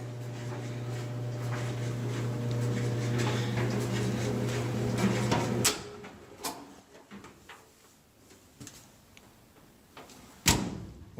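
A GE electric clothes dryer that runs without heating hums steadily for about six seconds, then shuts off, leaving scattered clicks and one sharp knock.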